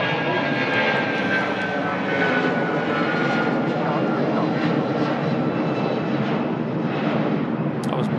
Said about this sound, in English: the 757 is on the way out to Porto. Wow, that's a super early rotation.